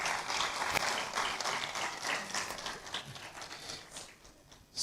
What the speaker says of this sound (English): I believe they deserve a round of applause.